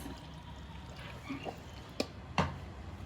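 Water poured into a bowl of flour batter with salt and stirred by hand in a home kitchen, giving soft quiet trickling and a few short wet splats and taps, close and faint, with no talking.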